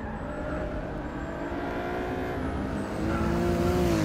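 Race cars roar through a corner complex at Sebring International Raceway in Forza Motorsport 6, a steady dense engine drone with rising pitch toward the end and faint tire squeal, loud and continuous with no talk.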